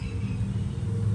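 Road traffic passes near a village kitchen where breakfast is being cooked, a steady low rumble of cars and motorbikes with no break and no talk.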